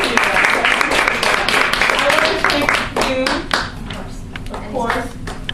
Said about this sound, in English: can we give Regina a quick round of applause before she goes?